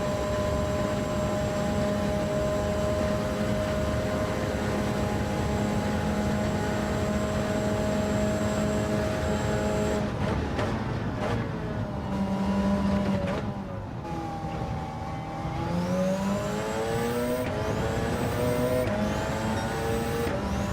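Racing engines in Gran Turismo 7 during a 24 Hours of Le Mans endurance event, a sustained high-pitched whine that shifts and sweeps up and down as cars brake, downshift and pass, loud and continuous with no speech.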